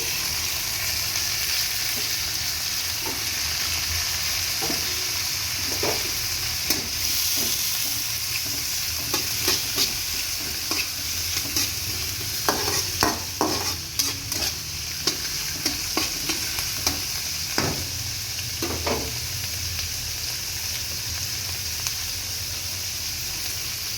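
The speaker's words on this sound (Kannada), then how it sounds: "ಈ ಟೊಮೊಟೊನ ಫ್ರೈ ಮಾಡ್ತೀನಿ." Chopped tomato frying in a pan, a continuous loud sizzle with intermittent sharp scrapes and taps of a spatula stirring, growing busier toward the middle.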